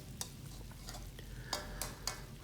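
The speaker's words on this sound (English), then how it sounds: "So we're actually just pan frying it or stir frying all of it." Pork, beef and green peas for menudo are stir-fried in a pan, giving a quiet steady sizzle with a few light clicks of a utensil against the pan.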